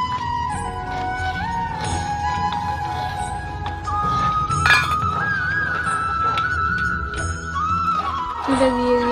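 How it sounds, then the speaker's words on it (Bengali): Payesh (rice pudding) being stirred in a pot just after sugar goes in, with a spoon clinking and scraping against the metal in an uneven rhythm beneath a steady tonal background hum. "চিনিটা দিয়ে দিয়েছি, এবার নেড়ে নিই।"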